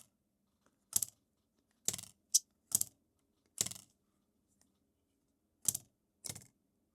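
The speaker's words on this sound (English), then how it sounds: "these flaps, okay, the hinge has got beefier springs." Spring-hinged flaps on a Hasselblad X2D II camera snap shut in about eight crisp, close mechanical clicks at irregular intervals, some doubled, with quiet gaps between.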